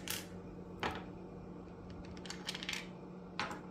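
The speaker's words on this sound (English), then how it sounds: "and we'll roll the dice again." Dice for The Genius Square board game tumble and clatter in several short bursts, rattling onto the board and settling between throws, close by and fairly quiet with no voices.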